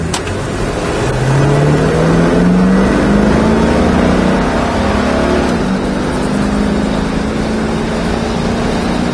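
A 1968 Buick GS 400 convertible engine runs loud and close, rising in a long smooth rev as it pulls and accelerates, then settling into a steady drone.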